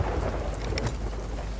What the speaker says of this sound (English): We're in the center of the storm now.